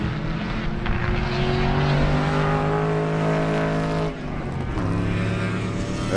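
Race cars at Sebring roar past on the track during a Love Bug Dash race, a loud continuous engine drone with shifting pitch as cars pass, briefly dipping near the end before another car arrives.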